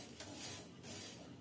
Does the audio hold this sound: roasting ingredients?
yes